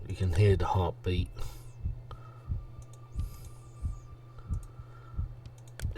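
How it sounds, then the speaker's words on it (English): After a short burst of speech, a heartbeat thumps in a slow, regular rhythm, each beat a soft low pulse, over a constant low hum. "You can hear the heartbeat."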